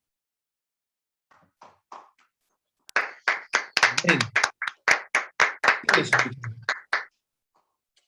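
A few scattered claps at first, then a church congregation claps in a steady rhythm for a few seconds, with a brief spoken word, before stopping.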